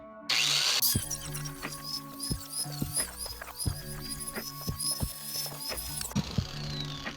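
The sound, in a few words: grinding welded scrap metal jig with a grinder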